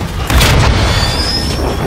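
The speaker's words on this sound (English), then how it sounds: "Trojan 6-2, cruise missile inbound." A cruise missile blast in Call of Duty: Modern Warfare II, a loud, dense rumbling boom that swells quickly and holds as a roaring wash with a faint high whine over it.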